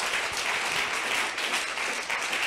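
A church congregation applauds at a worship service, a dense, fairly even patter of many hands clapping from a middle distance for a short stretch, with no voices rising above it.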